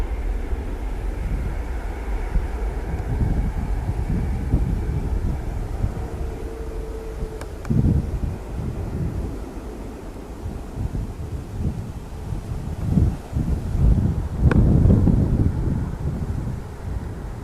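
A TUI airliner at Manchester Airport gives a low, steady rumble heard from a distance through heavy wind buffeting on the microphone, swelling a little louder near the end.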